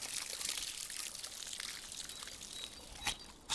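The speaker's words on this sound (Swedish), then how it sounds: "Gumman hämtade vatten att hälla ovanpå." Water is poured over something as a children's story sound effect, a steady hissing splash and trickle that runs throughout, with a faint birdlike chirp and a sharper splash near the end.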